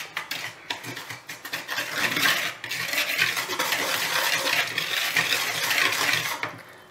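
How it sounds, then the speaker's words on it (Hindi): A spoon scrapes and clinks steadily against a bowl, stirring dry semolina, chocolate powder and sugar together in quick, close, continuous rhythm with no one speaking. "और अब हम इन तीनों चीज़ों को बहुत अच्छे से मिक्स कर लेंगे।"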